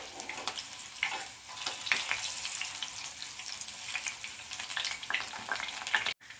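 Arbi (colocasia) leaf pakodas fry in hot oil with a steady, bright, crackling sizzle that stays close and continuous, with a few pops and a brief cut-out near the end.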